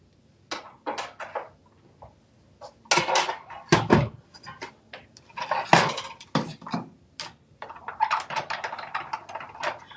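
Scissors or a craft knife cut a paper card panel for a coffee-themed handmade card, heard as irregular close crisp snips and rustling paper clatter in short bursts, with no talk.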